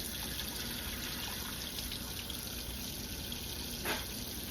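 Steady running water from a kitchen tap pours over cooked ground meat for chili draining in a strainer, a constant close rushing hiss with no pauses.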